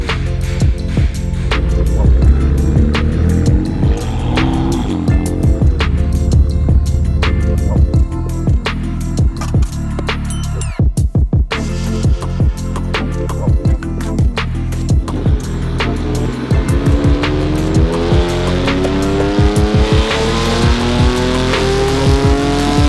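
A BMW M4 (F82) with a Cobra Sport exhaust roars continuously at high revs on a dyno, with the pitch rising and falling through several sweeps and a brief cut near the middle.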